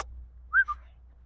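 A short two-note whistle aimed at a dog to break its focus, a brief rising tone followed by a softer second blip, alone against a quiet outdoor hum.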